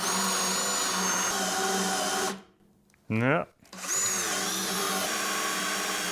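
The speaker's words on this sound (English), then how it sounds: "This is a cheap drill." Cheap Bauer drill fitted with a hole saw whines loudly and steadily while cutting, stops briefly as a voice speaks a word, then spins back up at full volume.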